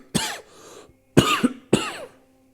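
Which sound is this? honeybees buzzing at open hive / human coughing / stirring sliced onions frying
human coughing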